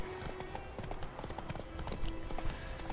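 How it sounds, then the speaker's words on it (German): Wild horses galloping in the video game The Witcher 3, a rapid, close clip-clop of hooves with a running rhythm over game ambience. "Ach, hier sind wieder die wilden Pferde."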